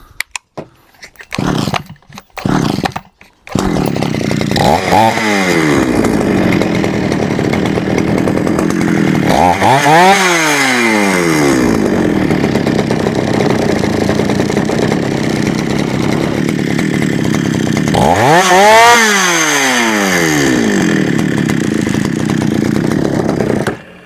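A Chinese-made petrol chainsaw, just repaired after a spark plug fault, sputters to life after a few pulls, then runs loudly, revving up and dropping back several times between steady idling stretches.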